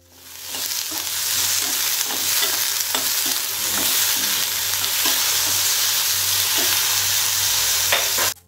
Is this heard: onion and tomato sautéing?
yes